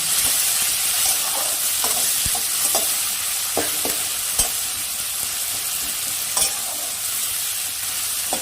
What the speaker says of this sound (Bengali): এবার টমেটো কুচনোগুলো দিয়ে দিব। টমেটো কুচনোগুলো হালকা ভেজে নেব।